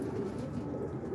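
Kit pigeons, both hens and cocks, in a kit box give soft, continuous low cooing, a steady murmuring hum close by with no voices over it.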